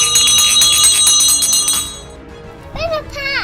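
Bells ring out steadily in a community bell-ringing for peace marking the 75th anniversary of VE Day, a bright repeated chiming that fades, followed by a few rising whistle-like tones near the end.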